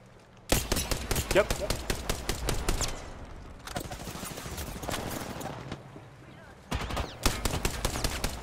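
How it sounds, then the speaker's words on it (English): Repeated bursts of multiplayer video game gunfire, rapid volleys of shots in several loud clusters separated by brief pauses, with a short spoken word between them. "I'm getting shot from behind"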